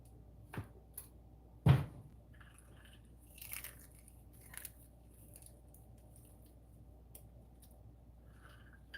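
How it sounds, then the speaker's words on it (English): A crunchy nut is crushed by hand, giving one sharp loud crack followed by scattered faint crunches and small crackles amid near quiet. "I need to crush this a little bit because I can't use it like as whole as it is, so I'm just going to use my hand to crush it."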